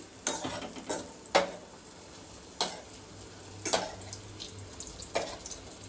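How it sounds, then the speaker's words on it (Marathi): Chiroti pastry fries gently in oil over a low gas flame, a faint soft sizzle punctuated by occasional sharper clinks and scrapes of a utensil stirring in the pan. "मी आता मंद गॅसवर सगळ्या तळून घेते."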